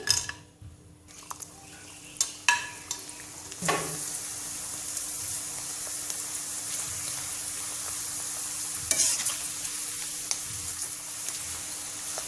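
Sun-dried beetroot chips frying in hot oil: a steady close sizzle that runs throughout. Louder crackling bursts and a few clinks of utensil against the pan come as pieces go in and get stirred.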